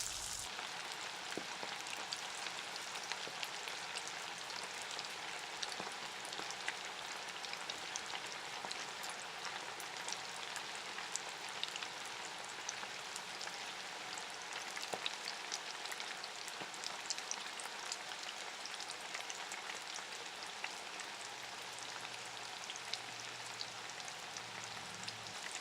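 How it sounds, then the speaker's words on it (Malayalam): Marinated chicken pieces for chicken pakoda deep frying in hot oil over a medium flame give off a faint, continuous crackling sizzle that stays even for the whole stretch, with no talking. "ഈ എണ്ണ നന്നായി ചൂടായി കഴിയുമ്പോൾ ഇതിലോട്ട് മാരിനേറ്റ് ചെയ്ത് വെച്ചിരിക്കുന്ന ചിക്കൻ പീസുകളിട്ട് മീഡിയം ഫ്ലെയിമിൽ വച്ച് ഡീപ്പ് ഫ്രൈ ചെയ്തെടുക്കുക"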